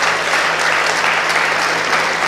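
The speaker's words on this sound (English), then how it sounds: "Let's give Hank and Rose Sanders a round of applause." A packed room at a presidential candidates forum in Selma gives loud, continuous applause, close and even from start to finish.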